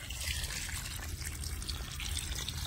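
Water pours steadily onto the soil around dried-out lemon trees being watered after a long dry spell, a continuous close splashing trickle with no one talking.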